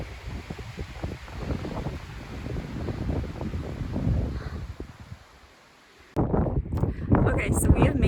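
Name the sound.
strong wind on a mountain top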